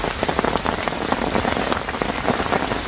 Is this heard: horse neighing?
no